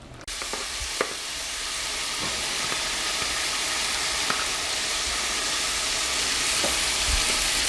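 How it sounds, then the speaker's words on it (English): Spaghetti and spinach draining together, a constant loud rushing hiss of hot water and steam pouring through for the whole stretch, with a few faint knocks, and no voices. "I'm going to drain this spaghetti and the spinach together"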